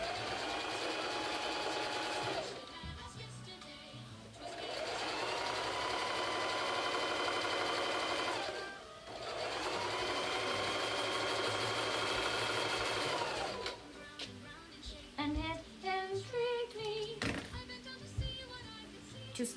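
A sewing machine stitches fabric squares together one by one, its motor buzzing in long steady runs with short stops between them, then breaking into shorter stop-start bursts toward the end.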